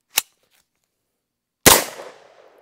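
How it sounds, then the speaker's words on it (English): A sharp 9mm gunshot from a Matador Mat 9 upper on a PSA Glock-magazine lower, loud and close, with a ringing decay, preceded by a brief faint click. "And now the PSA Glock mag lower with the Mat 9 upper. All right, just got 4 rounds loaded in this magazine."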